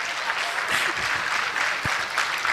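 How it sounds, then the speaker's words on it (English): A crowd applauding steadily at a law school alumni homecoming and anniversary event, dense continuous clapping from many hands, fairly loud and sustained for the whole stretch. "let's clap for them again"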